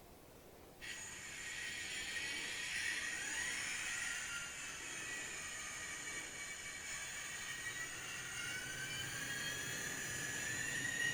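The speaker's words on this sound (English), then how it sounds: "we'll run through the locos again this time" Six-axle model locomotives on a KATO layout run around tight R216 curves. A thin high wheel squeal and whine start abruptly and keep going over a low, steady rolling rumble, with no talk.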